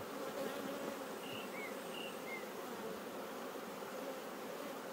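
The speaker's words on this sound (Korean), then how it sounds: "이 숯벌이잖아요 이거" Honeybees, including drones, buzz loudly and continuously in an opened beehive during a hive inspection, a dense, even drone with no voices.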